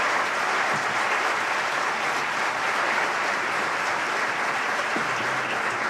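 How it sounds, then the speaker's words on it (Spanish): Dense, steady applause from an audience at an event with Barack Obama and young entrepreneurs at the Usina del Arte, loud and continuous for the whole stretch with no voices over it. "por favor, démosle un aplauso a Celeste"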